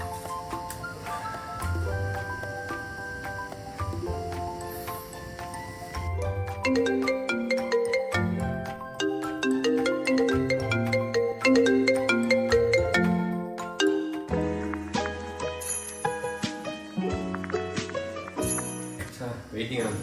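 Phone ringtone playing during a call to a doctor, a melodic electronic tune of repeated chiming notes that runs steadily and fairly loud for about twenty seconds with no speech over it.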